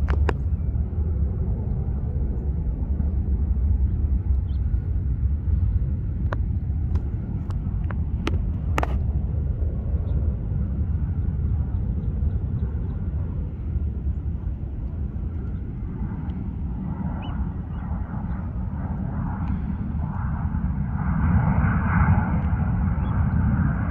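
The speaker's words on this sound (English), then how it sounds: "On the left, United Airlines 757 from O'Hare." A United Airlines 757 and a 737 on parallel approach at San Francisco airport make a steady, distant jet engine roar and low rumble with some wind buffeting, continuous and unbroken throughout, with no talk.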